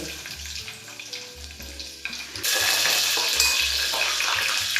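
Crushed garlic hits hot oil in a pan and breaks into a sudden, loud, continuous sizzle after a quieter stretch of low background tones.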